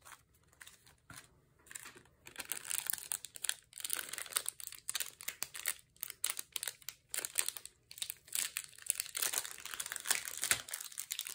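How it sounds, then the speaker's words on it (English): Paper ephemera for a junk journal crinkles and rustles almost nonstop at close range, in irregular bursts of crumpling and handling with brief pauses, with no one speaking. "Sorry for all the crinkling."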